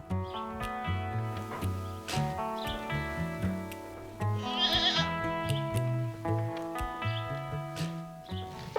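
Goats bleating on a farm, several overlapping voices calling repeatedly and loudly at close range in a busy chorus.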